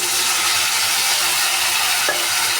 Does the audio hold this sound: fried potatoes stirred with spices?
yes